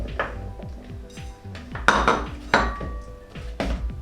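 Clattering kitchen handling of a bowl being readied for tossing celery fries with seasoning: irregular knocks and clinks of dishware and utensils, several sharper impacts among lighter rattles, close by with no talking.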